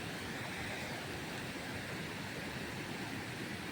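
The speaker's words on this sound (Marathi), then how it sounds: "काय पाणी येते बघा अख्ख्या सड्यावरून पाणी येते" A steady, dense rush of water roars continuously, broad and unbroken, like a strong flow pouring across open ground.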